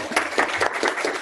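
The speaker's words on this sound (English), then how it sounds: "I'm going to clap for you first." Brief clapping for a presenter during a class session, a few quick rounds of hands from a small group, fairly soft and over in about a second.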